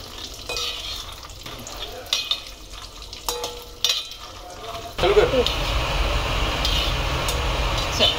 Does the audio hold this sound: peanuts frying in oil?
yes